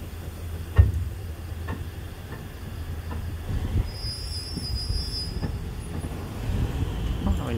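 Ordinary passenger train 277 running from Bangkok to Kabin Buri in Thailand, with steady rumbling wheels on the rails, rhythmic clacks over rail joints and a thin, high wheel squeal partway through, heard from inside the carriage.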